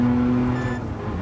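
A Mazda RX-7 engine in Gran Turismo Sport hums with a steady, loud tone, briefly rising before settling into a rougher drone.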